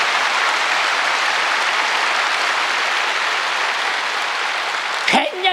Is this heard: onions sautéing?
no